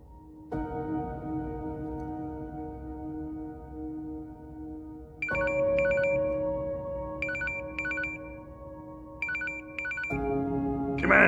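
A telephone ringtone sounds in an office setting, a steady electronic tone with repeating bursts of brighter chirps in short pairs, loud and continuous over about ten seconds, with no talking.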